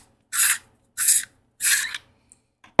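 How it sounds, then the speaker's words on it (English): Three evenly spaced raspy scraping twists come from a neopixel lightsaber emitter being unscrewed from the hilt, each lasting about half a second and close up, followed by a couple of faint clicks. "So just unscrew your emitter here."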